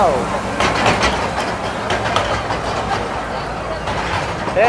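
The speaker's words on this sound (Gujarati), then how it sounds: "આવી ગઈ ભાઈ જબલપુર એક્સપ્રેસ જબલપુર એક્સપ્રેસ" The Jabalpur Express rumbles by close at hand at Kankaria, Ahmedabad, with repeated clickety-clack beats, steady and loud, with a voice partly mixed in.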